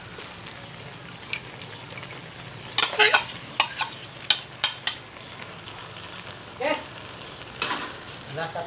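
Vegetables for pancit bihon being stirred as they fry in a pan, a steady sizzle under scattered sharp utensil scrapes and clinks against the metal, close by.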